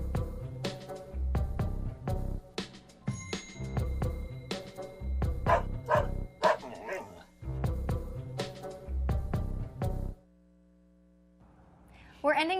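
A small 11-pound Shih Tzu puppy barks and yips in a run of short, repeated bursts, fairly close, mixed with voices and other sound, then falls quiet near the end.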